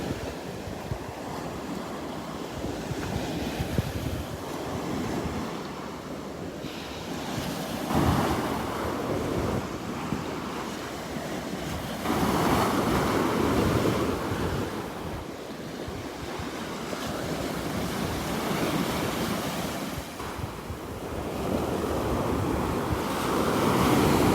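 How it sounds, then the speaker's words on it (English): Steady wash of ocean surf breaking on Vanderbilt Beach in the morning, swelling and receding in broad waves with a constant windy hiss, no voices. "This is our morning symphony, the sound of the waves."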